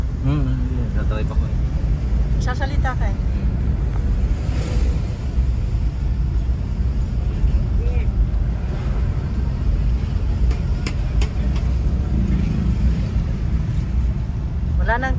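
Street traffic in Bohol forms a steady, loud rumble of passing engines and vehicles, with voices and crowd chatter mixed in nearby throughout.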